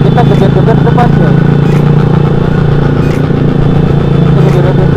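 Motorcycle with a loud aftermarket exhaust revving amid a crowd at a busy gathering, a dense, continuous engine roar dominating throughout with clattering and voices mixed underneath.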